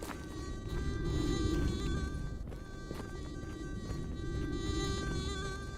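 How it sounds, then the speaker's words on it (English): A loud, close fly buzzes steadily and continuously in Stalker GAMMA, a droning whine layered over a low game ambience that holds throughout. "I hear a very loud fly."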